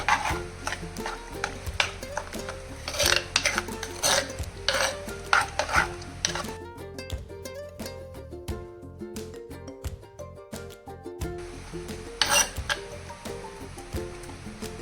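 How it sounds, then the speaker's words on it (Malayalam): A Kerala dish gets mixed in a pot with a spoon, making brisk rhythmic scraping and clinks at first, then a quieter stretch with a ringing tonal hum, before a final burst of stirring. "നല്ലോണം മിക്സ് ചെയ്യുക."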